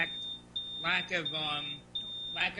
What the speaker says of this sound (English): What is that noise? You hear that? What is that? A fire alarm or something?